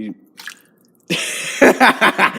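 Canned chicken noodle soup poured into a pot: a brief faint splash, a pause, then a louder wet pouring with several glugging bursts as the contents slosh in, close and alone.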